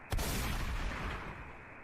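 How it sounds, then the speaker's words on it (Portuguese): A single sharp gunshot cracks out close and loud in a werewolf tale, followed by a long, rumbling echo that slowly fades over nearly two seconds. "ele mirou no coração e atirou"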